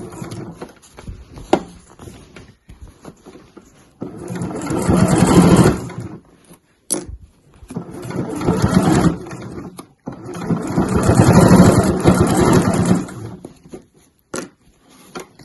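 A sewing machine stitches the base of a weekender bag in short bursts of fast rattling stitches, with quiet pauses and small clicks between them as the fabric is turned at the corners.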